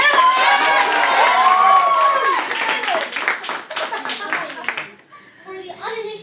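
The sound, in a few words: audience applause and cheering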